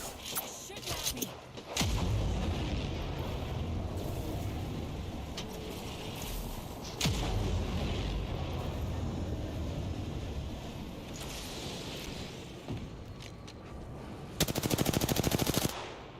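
Sustained bursts of automatic gunfire in the Apex Legends video game, a steady rattling barrage running almost the whole time with a louder, harsher burst near the end.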